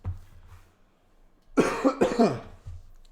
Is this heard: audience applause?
no